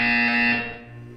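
A loud, steady electronic buzzer in the Portal 2 video game sounds once, a harsh sustained tone that drops in intensity partway through and then trails off.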